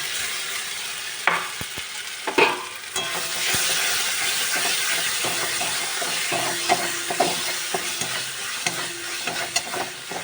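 Ginger-garlic paste hits fried onions in a hot pan and sizzles steadily with a bright hiss, broken by a few scrapes and knocks from stirring, close and continuous, with no talking.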